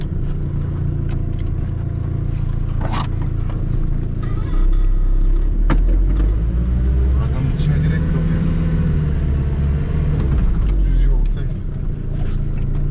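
A Mazda car reverses off-road across wet grass on a village track, its engine droning steadily with occasional surges and rumbling tyres, while people talk over it throughout.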